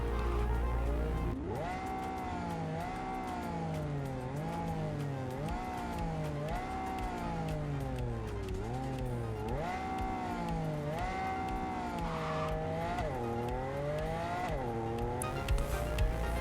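Engine of a car in Cyberpunk 2077, revving up and down in repeated rising and falling sweeps with tire squeal mixed in, loud and continuous for the whole stretch.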